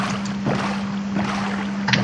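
In the Minecraft video game, a boat glides over water with soft splashing strokes about every two-thirds of a second over a constant low hum. The sound is moderately quiet and alone, with no voices.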